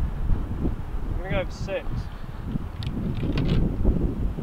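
Gusty wind buffets the microphone on an exposed golf course during a Ryder Cup course vlog, a steady low rumble running throughout beneath nearby conversation.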